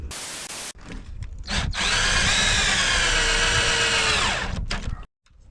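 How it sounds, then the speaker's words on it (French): Cordless screwdriver driving a screw into a wooden slat for a woodshed build, a loud close whine that ramps up and holds steady for about three seconds before stopping, after a short burst at the start. "je vais visser la latte là déjà"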